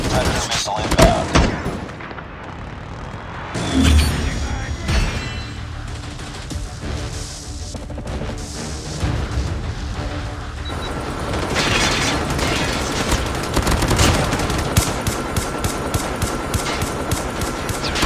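A sentry gun firing in Call of Duty: dense, rapid automatic bursts mixed with booms and mechanical clatter, continuous and fairly loud under game voice callouts.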